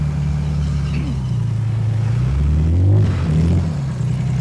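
A car cruising around a residential block in spring gives a loud, close, continuous engine drone and road rumble, pitch rising and falling slightly with speed, with no pauses.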